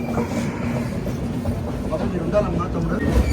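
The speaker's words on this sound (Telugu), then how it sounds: "బొర్రా గుహల నుంచి కూడా స్టార్ట్ అయిపోయింది మన ట్రైన్." Kirandul passenger train 58501 on the Visakhapatnam–Araku line, pulling away from Borra Caves station: a steady near rumble of wheels and carriage with faint rattles, loud and continuous throughout.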